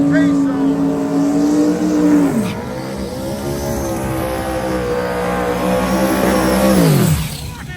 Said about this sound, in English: Look at that smoky burnout for the regulator racing Mustang.